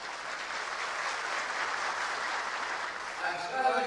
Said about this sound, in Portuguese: Nossos aplausos para Sua Excelência o presidente João Figueiredo.